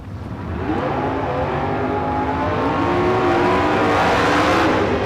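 A drag racing car, a little Nova in a bracket race at the K&N Spring Fling Million, roars down the track with engine pitch climbing steadily and growing louder throughout, without voices.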